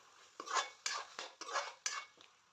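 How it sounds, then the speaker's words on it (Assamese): Jackfruit being stirred and fried with masala in a pan: a utensil scrapes and clatters against the pan in repeated bursts, roughly one every half second, close and clear with no talk. "মই ভাজি থোৱা কঁঠালখিনি মিক্স কৰি দিলোঁ। অলপ ভালদৰে ভাজি ল'ম।"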